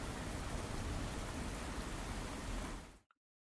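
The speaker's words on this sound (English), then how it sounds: "I want to change the sound effects from that to" Steady, even rain hiss filling the whole clip, broad and continuous, then cutting off abruptly near the end.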